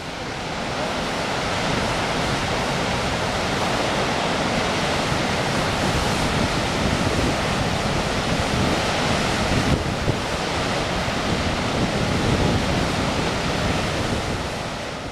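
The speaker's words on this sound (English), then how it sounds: "Since then, it has been known as Godafoss, the waterfall of the gods." Godafoss waterfall in Iceland pours in a steady, loud, broadband roar that stays constant and close throughout, with wind buffeting the microphone and no voices.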